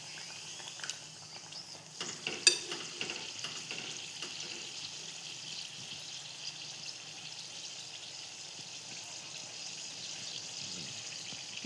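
Puri frying in hot oil on a gas stove at medium flame, a faint, steady bubbling sizzle with occasional pops and a brief clatter, no voices.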